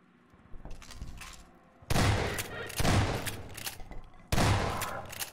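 Shotgun blasts from Half-Life 2, three heavy booming shots spaced about a second or two apart, each with a rough decaying tail, following quieter rumbling combat noise and no talking.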